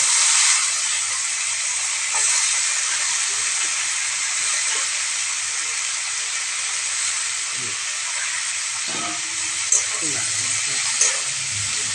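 Onion and vegetables frying in a pan, a steady, moderately loud hiss and sizzle of oil running throughout, with occasional clinks and a few brief voices under it.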